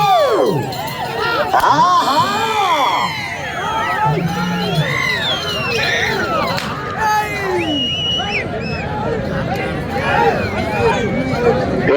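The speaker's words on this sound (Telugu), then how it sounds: "దబిడి దిబిడి అంతా గట్టిగా కేకలు చప్పట్లు" A large crowd shouting, cheering and whooping at a bullock cart pulling contest in Uttanur, loud continuous babble of overlapping yells with scattered whistles and clapping, close and busy throughout.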